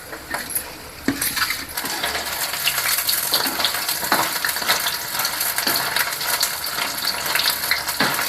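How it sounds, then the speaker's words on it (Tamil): Marinated paneer pieces fry in a pan with steady crackling sizzle and scattered sharper pops, occasional utensil clinks over a continuous hiss, close and fairly loud, no voices. "நாம் ஊற வச்ச பன்னீரை இந்த மாதிரி தனித்தனியாக போட்டு வறுத்து எடுத்துக்கலாம்"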